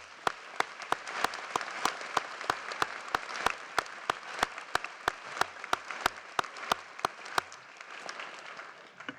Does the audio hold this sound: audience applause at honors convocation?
yes